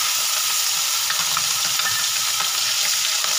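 Fish frying in oil in a pan makes a dense, steady, close sizzle with faint crackles throughout, and no one speaks.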